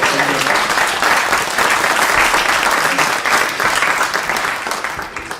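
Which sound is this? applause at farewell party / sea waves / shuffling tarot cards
applause at farewell party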